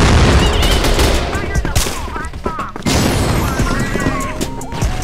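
Rapid automatic gunfire in a first-person shooter video game rattles loud and close in dense bursts, with overlapping shots and a voice talking over the action.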